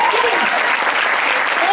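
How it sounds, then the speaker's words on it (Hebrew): Dense, steady applause from a live audience at an Israeli song contest show, loud and sustained throughout with the hosts' voices faintly mixed in. "אני רוצה לשמוע את מחיאות הכפיים שלכם"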